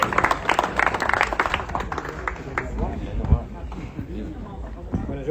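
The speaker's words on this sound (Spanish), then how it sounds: "Gracias. Aplausos." An audience at a Berlin book launch for «Nadie baila sobrio» breaks into clapping, scattered quick claps at first that soon give way to people talking close by.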